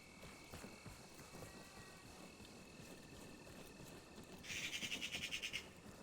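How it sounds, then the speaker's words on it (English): In the video game Arma Reforger, an owl lets out a quick run of repeated calls near the end, heard over a quiet, steady outdoor ambience. "The owl's really nice too."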